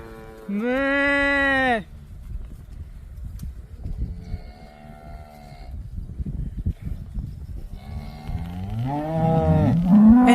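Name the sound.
cattle mooing by the road in Oklahoma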